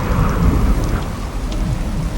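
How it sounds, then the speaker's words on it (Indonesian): Heavy rainstorm pouring steadily with deep, rumbling thunder rolling underneath, loud and close, with no voices. "saat ini hujan badai malah semakin besar"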